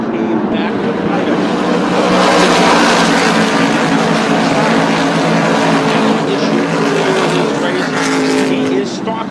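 NASCAR Whelen Modified race cars roar around Thompson Speedway in a dense, loud, continuous engine howl. Race commentary runs over the top of the noise throughout.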